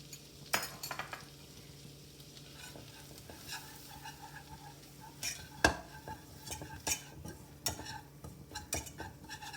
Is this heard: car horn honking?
no